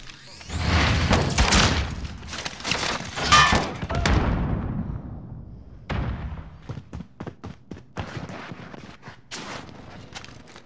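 A frag grenade going off in Call of Duty Modern Warfare, a loud booming blast with a rumbling decay, followed by scattered gunfire and footsteps-like thuds during a team deathmatch.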